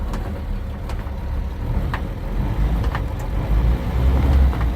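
An old 1949 Dodge B series pickup truck engine rumbles low and steady, growing slightly louder as it pulls away, with a few light clicks and knocks.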